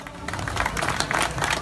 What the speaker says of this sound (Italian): facciamo un applauso a Antonino Tutino